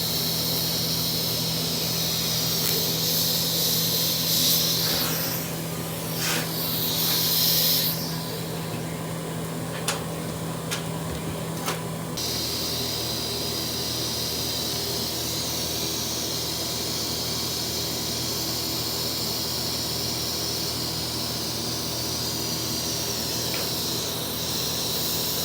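Welding a truss onto a Dana 44 axle: a steady, close crackling hiss of the arc runs on, broken by a few clicks and a short pause partway through, then continues evenly to the end.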